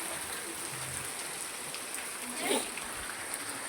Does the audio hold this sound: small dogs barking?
no